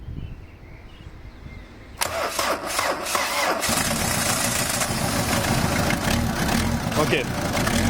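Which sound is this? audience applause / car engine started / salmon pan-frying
car engine started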